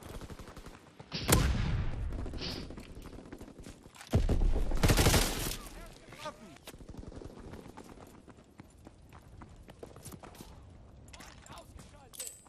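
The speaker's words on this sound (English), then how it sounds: "Enemy strafing run incoming. Get to cover." An enemy strafing run in Call of Duty WWII brings two heavy, roaring bursts of close gunfire, followed by scattered lighter shots and battle noise fading into the background.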